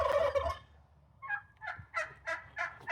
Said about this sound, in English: It's time for the chickens to get inside the coop.